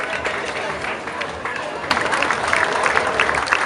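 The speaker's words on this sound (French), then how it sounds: "Il mérite également des applaudissements." Crowd clapping and cheering along a street parade procession of costumed Marmousets with a giant figure, a steady outdoor applause that swells louder partway through, mixed with crowd noise and talk.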